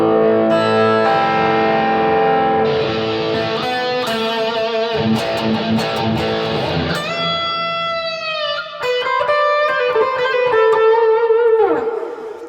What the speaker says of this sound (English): you can have that delay ring out as you switch off the distortion channel